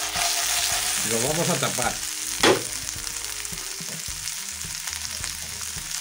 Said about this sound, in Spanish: le vamos a echar medio vasito de vino blanco